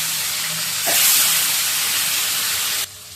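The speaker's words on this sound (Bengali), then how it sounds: "তেলও গরম হয়ে গেছে, মাছগুলো ভেজে উঠিয়ে নিই।" Fish sizzling in hot oil as it is fried for a home-cooked meal, a steady loud hiss that swells sharply about a second in as the fish goes into the pan, then drops away near the end.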